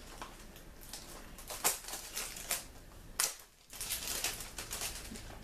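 Plastic shrink wrap crinkles and tears as it is peeled from a Pokemon Moon game box, with scattered crackles and a few sharper rips close by, no talking.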